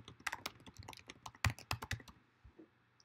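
Fast, uneven typing on a computer keyboard while writing an image caption, with close, crisp key clacks in bursts and a louder thump midway, no talking.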